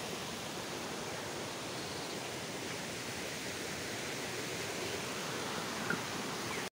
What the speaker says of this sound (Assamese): আৰু আছে ৱাটাৰফল